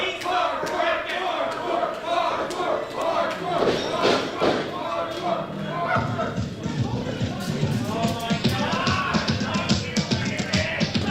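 Professional wrestling crowd at a live show, a dense, loud roar of many voices shouting and yelling continuously, with scattered thuds and bursts of cheering throughout.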